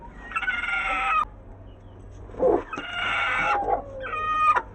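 A hen squawks and clucks in loud, agitated bursts beside her eggs, moving to a new nesting spot in a farmyard. The calls come close and alone, separated by short pauses.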